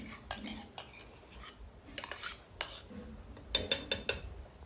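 A spoon stirs aravana payasam with ghee in a pot, making a series of sharp metallic clinks and scrapes in irregular bursts, fairly quiet and close.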